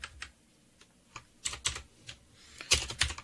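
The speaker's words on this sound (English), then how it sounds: "when we're typing along" Someone types on a computer keyboard while programming, with irregular clusters of close key clicks, sparse at first and then quicker bursts, with no talking.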